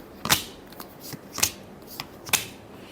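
Tarot cards are riffled three times in quick crisp bursts, close and clear, with faint rustling between them.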